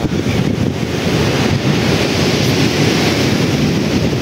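Sea surf on the Malvan shore of the Konkan coast roars continuously, loud and close, mixed with heavy wind buffeting the microphone.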